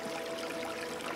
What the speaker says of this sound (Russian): это настоящие ручейки природные, которые бегут вниз туда с горы